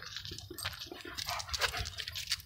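Dogs out on a walk make faint, brief whimpers and snuffling noises against soft background noise.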